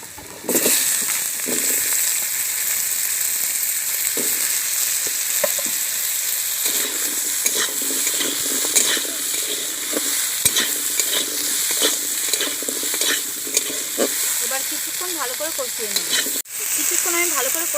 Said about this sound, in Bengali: পেঁয়াজটা আমি হালকা করে ভেজে নিয়েছি এবার কেটে রাখা আলু দিয়ে দিচ্ছি